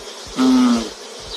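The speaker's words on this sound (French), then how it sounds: "L'abeille, on l'appelle le faux bourdon." A honeybee drone from a swarm gives one loud, close buzz lasting under half a second, rising out of quiet and dropping away again.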